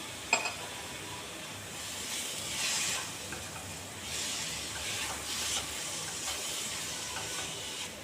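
Chopped tomatoes and ground cumin, turmeric and coriander sizzling in hot oil for Bengali egg curry, a steady close hiss with a few stirring scrapes and no talk.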